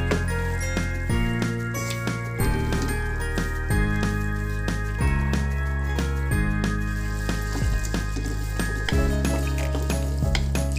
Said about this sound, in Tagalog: Lutuin pa natin ito ng another 2 minutes, then ready to serve na ito.